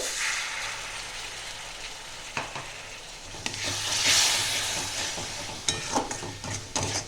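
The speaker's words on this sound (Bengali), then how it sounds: "এটাকে ভালো করে 2 থেকে 3 মিনিট ভালো করে আমি কষিয়ে নেব।" Chicken do piazza masala with ground cumin sizzles and fries in a pan while a utensil stirs and scrapes it in several distinct strokes, close and moderately loud throughout.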